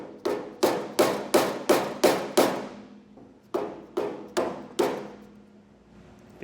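Eleven sharp metallic taps drive a flathead screwdriver under the lip of a trailer idler hub cap, coming in a quick even run, a short pause, then a slower group, close and loud with no talk.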